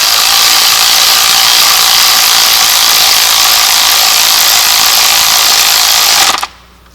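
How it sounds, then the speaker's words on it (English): An electric ratchet spins continuously and very loudly while tightening spark plugs on a 2024 Audi Q5, a steady high buzzing whir that stops abruptly at the end. "Use my electric ratchet."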